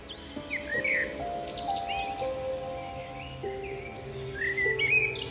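Baya weaver birds calling outdoors, with repeated bright chirps and short trills over a steady layer of sustained tonal calls and faint background noise.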